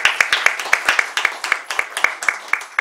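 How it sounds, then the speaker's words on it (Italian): A small audience in a room gives a short round of hand-clapping: crisp, evenly spaced claps at a steady rhythm, close and fairly loud, lasting a few seconds. "Bene, facciamo un applauso"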